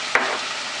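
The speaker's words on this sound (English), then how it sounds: "Now I'll add in the garlic paste," Garlic paste dropped into a hot pan sets off a loud, steady broadband sizzle, with a brief clink of a utensil near the start, and no talking.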